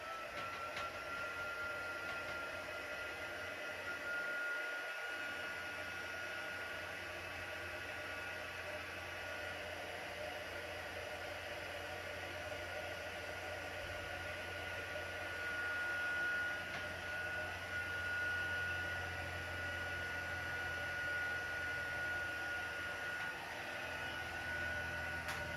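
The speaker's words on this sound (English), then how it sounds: "put some clear embossing powder on this, and I'm going to heat emboss it" A heat tool blowing hot air steadily to melt clear embossing powder on a card, a constant whirring fan hum lasting the full stretch at even, moderate loudness, with no talk.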